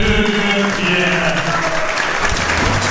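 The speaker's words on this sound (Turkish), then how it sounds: "Alkışlanır bu." Loud, steady audience applause fills a Muay Thai fight night, dense clapping running unbroken throughout with some crowd noise and faint voices beneath.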